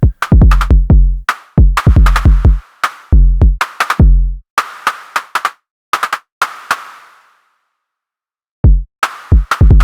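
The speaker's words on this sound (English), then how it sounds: "lots of movement in the bass or bass drum and the kick" Punchy electronic kick drum and snare hits in a quick, irregular pattern, dry and close, with a few brief gaps of silence.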